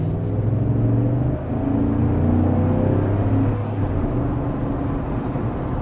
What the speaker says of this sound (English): let me do a full-on acceleration, get out of the way of traffic here.